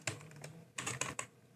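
Quick bursts of computer keyboard typing, a few crisp keystrokes in two short clusters, close and quiet with no speech.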